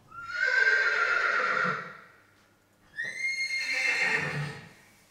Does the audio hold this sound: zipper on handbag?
no